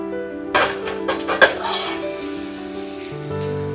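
Onions with ginger and garlic sizzle in a pan during home cooking, a steady frying hiss joined by a few clinks and scrapes of a utensil against the pan, close and fairly loud.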